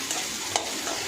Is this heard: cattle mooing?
no